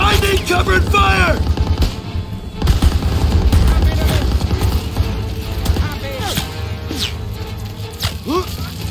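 Gunfire rings out in the Call of Duty WWII video game during a wartime hill assault. Loud bursts of machine-gun fire and scattered single shots rattle and boom close by, while shouting voices cut in over the battle.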